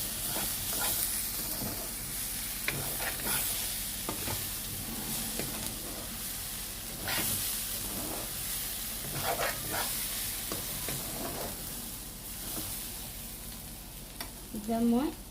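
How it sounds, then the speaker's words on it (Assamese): Chopped banana stem (kol posola) frying in a pan, a soft steady sizzle broken by the scrape and clatter of a spatula as it is stirred, fairly quiet and close. "পচলাৰ ভাজিখন লৰাই দিম।"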